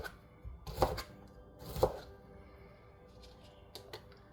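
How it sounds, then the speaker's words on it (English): A knife chops radish into large matchstick strips on a cutting board, two distinct firm thunks standing out followed by a couple of lighter taps, with quiet room noise between. "now you can kind of cut them down into matchsticks."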